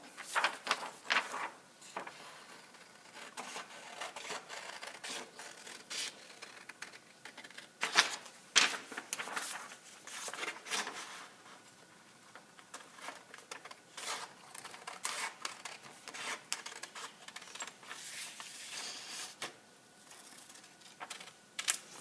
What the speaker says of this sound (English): So I'm going to start by cutting out this triangle.